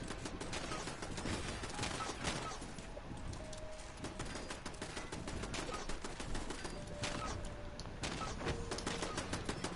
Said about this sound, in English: There is something shooting my camp.